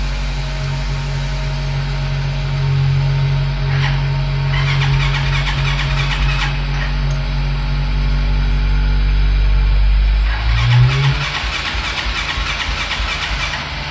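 A motorbike left standing for many days is started: a close, loud engine drones steadily with irregular revving surges, then changes pitch near the end as it catches. No talking is heard.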